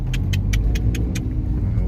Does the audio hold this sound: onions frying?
no